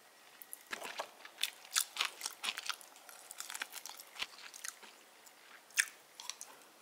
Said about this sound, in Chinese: 红烧肉味的这个玉米